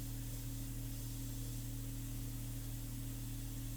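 An airbrush sprays India ink onto a portrait in a steady, soft, unbroken hiss, with a low constant hum beneath it and no pauses or voices.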